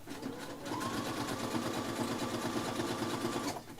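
A sewing machine runs in a steady, rapid stitching rhythm for a few seconds, fairly close, starting after a short pause and stopping abruptly.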